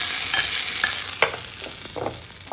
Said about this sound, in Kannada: ಹಾಕೊಂಡಿರೋ ಒಗ್ಗರಣೆ ಹಾಕ್ತಿದ್ದೀನಿ